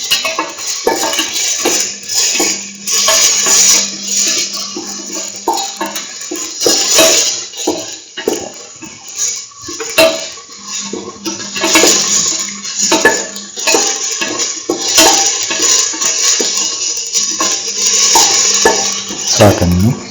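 Onion pieces sizzle and get stirred in a pan for curried lentil rice, with continuous frying hiss and repeated clinks of a spatula or spoon against the metal pan. No voices are present.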